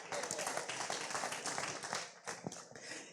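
A church audience bursts into dense, steady clapping that fills the space, with a voice talking over the applause as it carries on.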